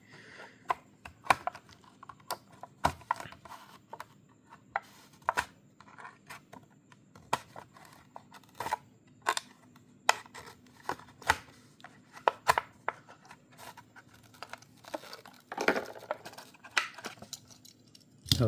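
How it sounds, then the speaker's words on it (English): Plastic-and-card clicks, tearing and rustling from unboxing a Hot Wheels Day of the Dead Ford '56 Custom Truck, irregular close taps and crinkles over a quiet room hum, no talking. "Let's unbox this."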